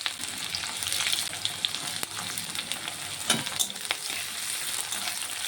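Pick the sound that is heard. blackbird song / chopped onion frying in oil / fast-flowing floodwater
chopped onion frying in oil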